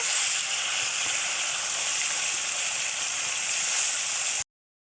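Pieces of silver carp fry in hot soybean oil, a dense, steady sizzling hiss heard close and loud for about four and a half seconds before cutting off abruptly.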